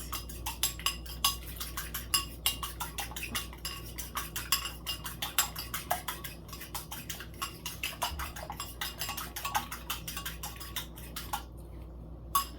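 Fork or whisk beating egg and milk together in a bowl for an egg wash, a quick steady run of close metallic clicks and taps against the dish, continuous and rhythmic.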